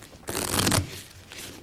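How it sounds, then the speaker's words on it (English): A deck of playing cards riffled quickly with the right thumb in a card-magic shuffle, one close crisp burst of rapid flutter followed by a softer second riffle, with no talking. "do exactly the same kind of shuffle, this time shuffling faster with my right thumb"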